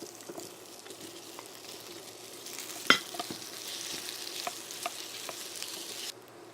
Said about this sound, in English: sesame oil into a frying pan and let that oil heat up, and then I'll add the rice cake to it